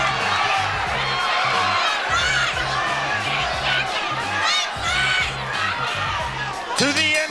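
A sold-out crowd at a women's fight event in Tampa, Florida roars and cheers loudly and continuously, with shouts and whoops rising over a dense wall of noise, and a bell rings near the end.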